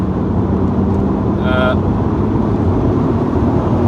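A BMW Z4 E85 with the 3.0 litre M54 engine drives along, giving a loud, steady engine and road drone throughout with a brief higher tone in the middle.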